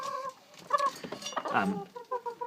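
Two Barbu d'Anvers bantam cockerels crow and cluck up close, several short harmonic calls in quick succession, with some background rustling.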